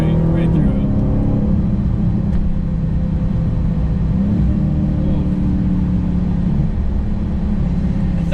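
A Dodge Charger Hellcat's Mopar exhaust drones steadily from inside the car while driving on old roads, a low continuous rumble with a brief rev, under intermittent talk.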